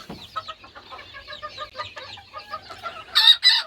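Several hens cluck softly in short rhythmic bursts nearby in a coop, ending with two louder, harsher squawks.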